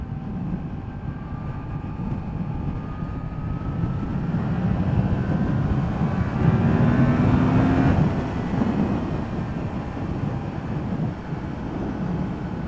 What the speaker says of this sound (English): you can really feel the engine when you get going a bit.